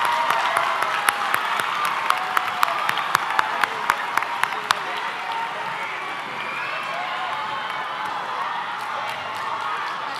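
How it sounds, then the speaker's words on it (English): A high school commencement audience applauds at length, a dense, even roar of many hands with a few sharper claps standing out early, filling the hall steadily before easing slightly. "Students, join us in giving our parents a round of applause for what they've done"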